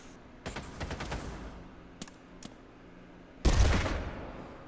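Shots ring out in the Pavlov VR shooter during a search-and-destroy round. A quick, muffled volley of several cracks is followed by two isolated distant pops, then one louder, closer blast with a short tail.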